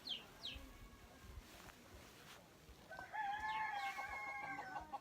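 A rooster crows once, fairly faint and distant, after a few seconds of quiet outdoor background with a brief bird call, in rural northern Laos.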